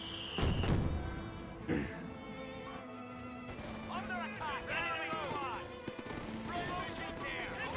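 Gunfire from a World War II real-time strategy game, sharp loud shots near the start, then scattered quieter bursts under continuous commentary from a voice.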